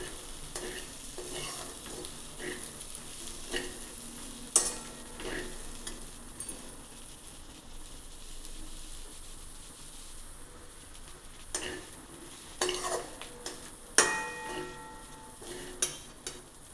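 Okra (bhindi) cooks in a pan with a soft steady sizzle, while a spoon scrapes and taps against the pan now and then, close and fairly quiet.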